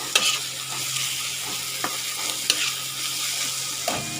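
Chili powder and turmeric stirred in an oiled pan for a Bangladeshi taro mash, a continuous sizzle broken by periodic clicks and scrapes of the spoon against the pan.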